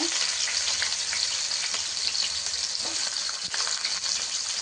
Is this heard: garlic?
yes